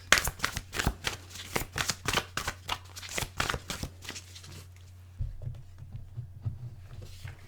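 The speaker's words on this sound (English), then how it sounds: "One more shuffle." Rapid riffle shuffling of tarot cards, a quick run of crisp flutters for about five seconds, then a soft thud and quiet handling.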